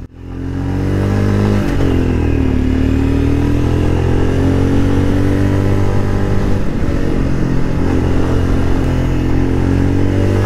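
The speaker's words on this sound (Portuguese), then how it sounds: "O som do escapamento, eu achei bem interessante, bem gostoso de ouvir." A Royal Enfield Scram 411 motorcycle, a 2024 model, rumbles loudly with a steady, deep exhaust note while riding, rising briefly in pitch early on and then holding an even drone.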